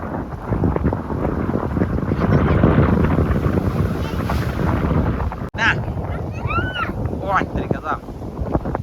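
Seashore waves rolling in under strong, gusting wind on a stormy coast as a cyclone approaches, loud and continuous with a surge of water mid-clip, while a boat engine hums and a voice speaks faintly.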